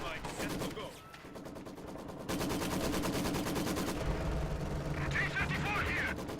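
Rapid machine-gun fire rattles in long sustained bursts in a WWII real-time strategy battle game, joined by other scattered gunshots and explosions, loud and dense, with a voice faintly beneath.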